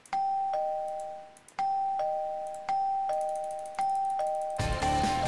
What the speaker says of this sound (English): here in my hand I have the doorbell